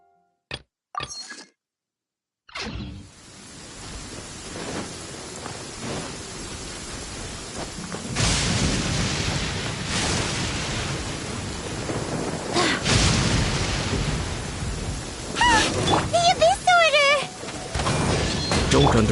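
Heavy rain pours in the Genshin Impact video game as thunder cracks and rumbles, with several loud booms over a continuous hiss of rainfall and a voice briefly heard.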